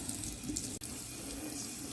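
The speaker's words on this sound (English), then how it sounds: "So this is me rinsing the brush in the hot water." Warm tap water runs into a sink while a makeup brush is rinsed under it, a close, steady splashing stream with one brief dip partway through.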